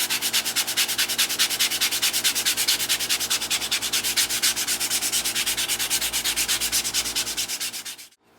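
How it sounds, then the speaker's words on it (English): Rapid, rhythmic back-and-forth hand sanding of a leather knife sheath's edge, close and steady for several seconds before stopping abruptly; no talking. "So now comes the hand sanding part."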